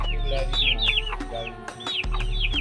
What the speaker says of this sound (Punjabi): ਇਹ ਕੁਕੜੀ ਜਿਹੜਾ ਬੈਕਗ੍ਰਾਉਂਡ ਆ